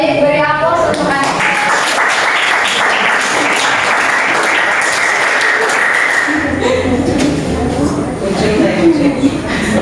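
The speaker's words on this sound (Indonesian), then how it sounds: "beri aplaus untuk anak" A classroom of students applauds a classmate, with loud, dense clapping for several seconds that fades as a teacher's voice begins speaking over it.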